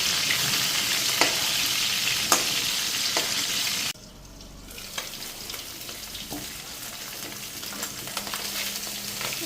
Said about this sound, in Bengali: মাছগুলি এক পিঠ ভাজা হয়ে গেছে, এখন এটারে উল্টাইয়া দিই।